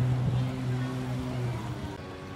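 Long-tail boat powered by a Sidu 600cc engine, running at a steady low drone near the listener at a boat parade on the water in Phong Điền, Cần Thơ.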